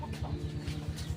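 A chicken clucking softly, a rapid run of short, low clucks in a quiet outdoor setting.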